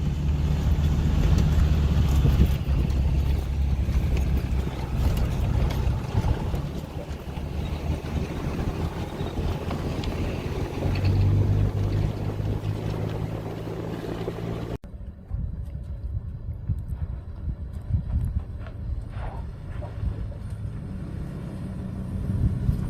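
A loud, steady V10 engine rumble from a lifted Mercedes Sprinter van drones on without a break, deep and heavy, with wind buffeting over it. Partway through, the high-end wind hiss suddenly drops away.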